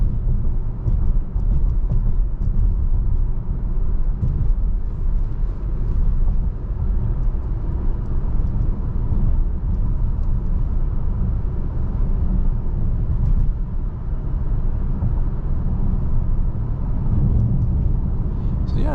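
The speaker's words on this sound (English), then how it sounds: "not a whole lot of tire noise going on over the bumps" Inside a 2022 Subaru Ascent Touring on the road, a loud, steady low rumble of tire and road noise fills the cabin without letup, with no distinct bumps standing out.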